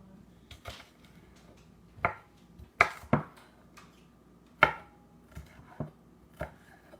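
Bell peppers being chopped with a knife on a cutting board: a handful of sharp, close knocks at uneven intervals, with quiet pauses between them.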